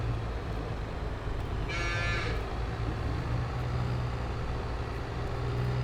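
Cattle lowing inside the farming game Farming Simulator 22, set on a Tuscan hills map: one drawn-out moo rises briefly over a steady low engine drone from nearby machinery.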